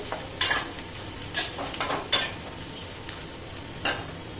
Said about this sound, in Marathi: छान उकडले आणि मग असे काप करून घेतले. मिक्स करून घेऊ.